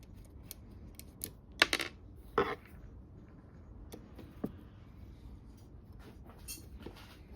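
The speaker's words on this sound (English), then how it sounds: "you gotta remove all these bolts" Metal bolts being loosened and pulled from the carburetor of a Polaris Predator 500 ATV that sat outside, heard as a few sharp clicks and clinks of tool and bolt, sparse and close, with quiet gaps between them.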